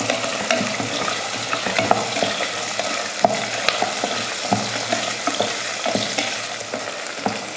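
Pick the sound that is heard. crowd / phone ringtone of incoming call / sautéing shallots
sautéing shallots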